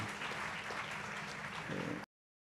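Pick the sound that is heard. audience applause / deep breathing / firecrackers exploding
audience applause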